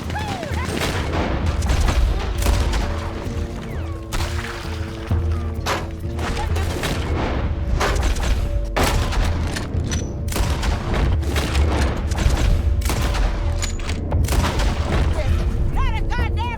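Rapid Gatling gun fire mixed with heavy booms and explosions in the Red Dead Redemption 2 video game, dense and continuous bursts with a few spoken lines.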